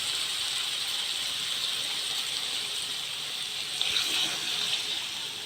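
Water added to fried masala in a pan for chicken curry makes a steady, fairly faint hissing sizzle that runs through the whole stretch with no one talking.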